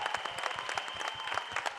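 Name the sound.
audience applause at trailer launch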